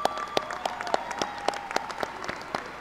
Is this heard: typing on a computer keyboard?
no